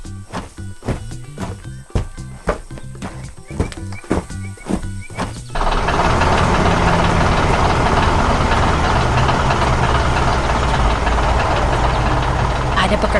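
A few sharp clanks and knocks, then a machine engine roars into a steady, loud, continuous drone that runs to the end.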